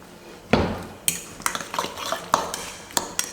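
Beaten eggs and diced vegetables being mixed in a bowl for egg dosa, with a spoon clinking and scraping against the bowl in a run of sharp, close taps and knocks, no talk.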